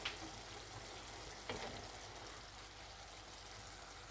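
Zucchini, mushrooms and peppers frying in a pan, a soft, steady sizzle with a couple of brief scraping stirs near the start and middle, close but faint, no talking.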